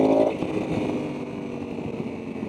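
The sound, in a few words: Honda Africa Twin 1100 motorcycle engine downshifting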